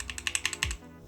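Quick burst of typing on a tactile mechanical keyboard fitted with Akko Cream switches, a close, crisp run of about eight clacks ending in a heavier thock.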